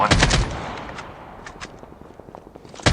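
Bursts of automatic rifle fire in a Call of Duty Mobile match, a loud rapid volley at the start, scattered lighter shots and footsteps through the middle, then another burst at the end.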